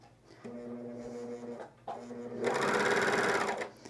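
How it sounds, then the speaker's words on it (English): A coverstitch sewing machine runs steadily on stretched camisole fabric, a close mechanical whir with a humming tone that pauses briefly, then restarts louder and faster for a longer burst. "it's key that you stretch your fabric and then"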